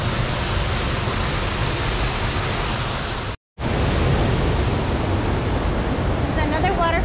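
Loud, continuous roar of rushing water from a waterfall off the Middle Prong Trail after rain, broken once by a brief cut to silence before the roar resumes.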